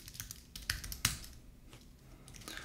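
Keystrokes on a computer keyboard while entering a Linux terminal command on a Raspberry Pi, a few scattered clicks at an unsteady pace, close and quiet against a faint room hiss.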